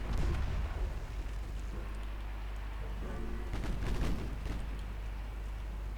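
Naval guns firing in a 1925 warship battle game, heard as a dense, continuous rumble of distant artillery with a few sharper bursts of shots clustered near the middle, with no talk over it.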